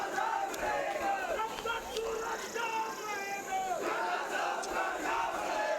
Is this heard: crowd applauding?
yes